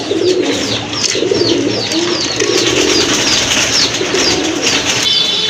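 Pigeons cooing close by in repeated low, rolling calls, including a male Blackless Satinette pigeon, with chirps and light rustling from several birds in the background.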